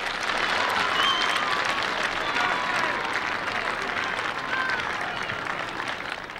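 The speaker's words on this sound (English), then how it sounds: "Parents and fans stand and clap," Parents and fans at a youth soccer match clap after a goal, a steady crowd of outdoor applause with some voices mixed in, fading gently toward the end.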